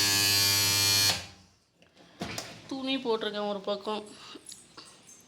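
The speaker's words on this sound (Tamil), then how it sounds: "துணி மிஷினில் துணி போட்டிருக்கேன்." A washing machine loaded with clothes gives a loud, steady motor buzz for about a second before cutting off abruptly; after a short pause a person talks nearby.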